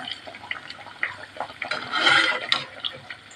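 Adhirasam, sweet Tamil fried dough, sizzling in hot oil: a steady crackling, bubbling fry with scattered pops, up close and alone.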